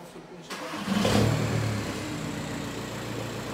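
A car engine with a new exhaust cranks and catches on its first startup, rising to a loud rumble, then settles into a steady idle close by.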